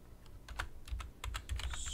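Rapid keystrokes on a computer keyboard while scripting in Roblox Studio: a quick, irregular clatter of close, crisp key taps over a low hum, with no voice.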